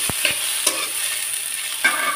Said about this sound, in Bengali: আলুটা দিয়ে তারপরে যে ভাজি করে নিতে হবে একটু